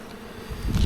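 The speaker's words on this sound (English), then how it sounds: "Nice calm bees." A dense, steady hum of many honeybees buzzing close by at an open hive, swelling louder toward the end.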